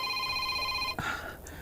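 A mobile phone rings with a steady electronic tone, close and clear, before a short knock and quieter room sound take over near the end.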